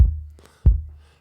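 Two booming kick drum hits from a microphone outside the drum, deep and resonant with a long low tail, spaced apart and heard alone at close, loud level.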